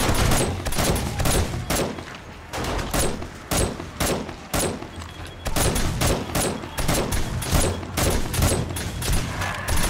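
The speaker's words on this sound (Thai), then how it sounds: "เสียงน่ากลัวมากเลยค่ะยิงรอบตัวเลยค่ะ" Dense, relentless gunfire erupts all around in the survival game 7 Days to Die, with overlapping rapid shots and bursts forming a near-continuous loud barrage across the whole stretch.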